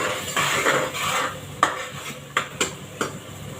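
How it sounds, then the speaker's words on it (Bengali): Masala being stirred and fried in a pan in a home village kitchen: a steady frying hiss under several sharp scraping knocks of a spoon against the pan, close and moderately loud. "মশলাটা কষানো হতে থাক"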